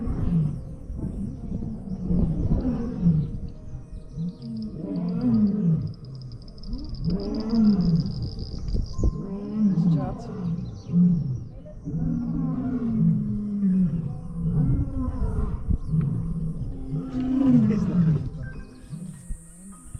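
Several lions roar in a chorus at a South African big cat sanctuary, the deep pulsing calls rising and falling in repeated bursts that overlap one another, loud and close, with some people talking faintly underneath.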